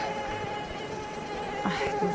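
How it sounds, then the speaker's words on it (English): A thin, high mosquito-like whine drones steadily and loud, hovering close throughout with slight wavering in pitch. "Almost as fast as that Mosquito sound effect disappeared."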